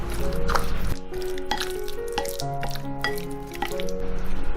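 Marinated fish belly with ginger slices, salt, soy sauce, starch and pepper is stirred in a large bowl, producing continuous close wet squishing and dripping sounds.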